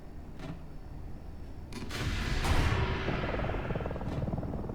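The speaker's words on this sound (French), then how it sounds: "Il y a des hélicos ennemis aussi, je pense." Enemy helicopter in a Roblox military game, a rough rotor drone swelling louder midway and holding steady, mixed with bursts of other game noise and no talking.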